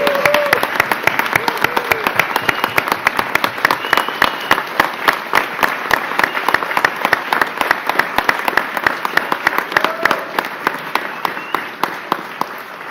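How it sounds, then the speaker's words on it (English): Applause from an audience at a healthcare announcement event in Fredonia, crisp individual claps standing out over a steady crowd clapping for roughly thirteen seconds, with occasional faint voices underneath. "Can we please give them a huge round of applause?"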